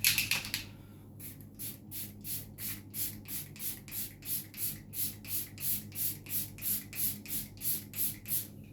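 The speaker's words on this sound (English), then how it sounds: "finish off with our Collection SPF setting spray" A makeup setting spray nozzle pumped repeatedly in a steady rhythm, about fourteen quick hissing bursts close up, preceded by a brief rattle.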